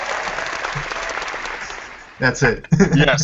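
Studio applause welcoming a returning guest on a SEGA fan podcast, a dense clapping burst that fades out before a host speaks briefly over the tail end.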